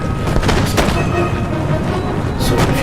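Howitzer artillery fire on a battlefield in Empire: Total War, repeated booming cannon shots layered over dense battle noise, loud and continuous with a few sharper reports standing out.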